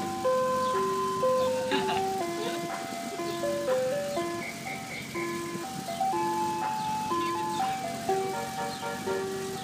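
An ice cream truck plays its tinkling chime melody, loud and steady from start to finish, with a low hum from the vehicle underneath it.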